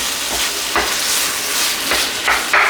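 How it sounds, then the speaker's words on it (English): Char siu sauce stirred in a hot pan, a steady loud sizzle with scraping strokes of the utensil coming every half second or so, no voices. "Let's keep on stirring or else it will burn."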